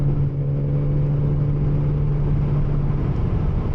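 A 700 hp Porsche Cayman 987 Turbo on light throttle gives a loud, steady engine drone with a low rumbling hum, heard close from inside the car.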